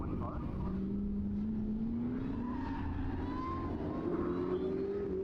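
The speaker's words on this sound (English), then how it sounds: "Dustin Frisco on track." Autocross race car driving on a track, a distant, continuous engine tone climbing steadily in pitch as it accelerates, under a constant background hum with faint commentary-like voices.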